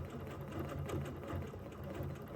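A sewing machine stitches couched fibers with a steady, rapid mechanical whir and rhythmic needle thumping, close and continuous throughout.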